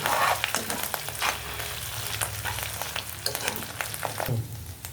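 Ginger garlic paste frying in a pan, a close, steady sizzle with crackling bursts and occasional stirring scrapes throughout.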